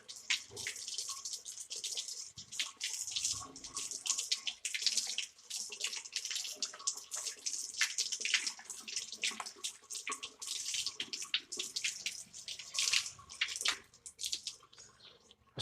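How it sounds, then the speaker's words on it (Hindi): Running water splashes steadily from a tap as a left foot is washed during Islamic ablation (wudu), a continuous close, hissy pour with shifting splatter and no talk. "इसके बाद बायां पैर धोएं।"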